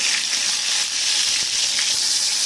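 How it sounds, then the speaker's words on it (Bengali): Oil sizzles and crackles steadily as eggplant fries in a pan, close and constant, with no one speaking. "সেই তেলের মধ্যেই বেগুনগুলো ভেজে নেবো"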